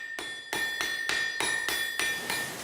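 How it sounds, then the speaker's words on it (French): A heavy 300 kg water-driven hydraulic trip hammer pounds iron in a steady rhythm, about five loud metallic blows with ringing clangs that carry a sustained tone between strikes, close and alone. "un marteau de 300 kg, capable de frapper le fer jusqu'à 120 coups à la minute"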